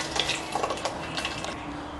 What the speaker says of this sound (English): I'm pouring about 4 to 5 cups of water here